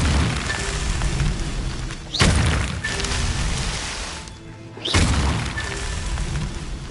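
Incendio fire spells are cast in the Hogwarts Legacy video game. Two sharp whooshing bursts of flame each flare into a fiery roar and crackle, with a steady rumble filling the gap between them.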